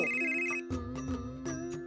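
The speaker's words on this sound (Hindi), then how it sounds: "अरे फिर आ गया इसका फोन" A mobile phone ringtone plays a short, bright electronic melody of repeated tonal bursts, clear and close, with no talk over it.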